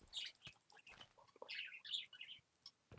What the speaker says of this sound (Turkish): Arkadan aşırı kuş sesi gelebilir.